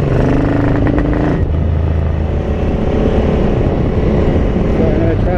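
Ducati 900SS bevel-twin engine with Dell'Orto PHM40 carburettors running lean, revved harder to fuller throttle, a loud, close, continuous roar that shifts to a deeper, rougher drone partway through, with a voice speaking over it.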